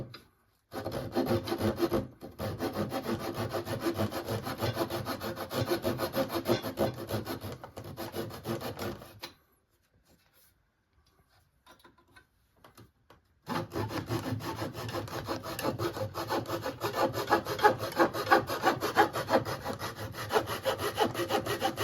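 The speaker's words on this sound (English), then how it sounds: "I'm gonna shave that down, saw it, and kind of smooth it out" Hand saw rasping back and forth through a wooden plug for a chair leg repair in fast, rhythmic strokes, close by, stopping briefly for a few seconds before resuming.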